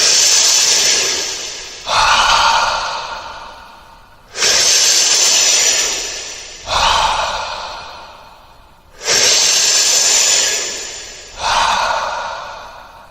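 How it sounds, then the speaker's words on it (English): Slow, deep breaths close to the ear: a long airy inhale, then a fuller exhale, repeated three times in a steady rhythm. "we will begin by taking a deep breath in and out"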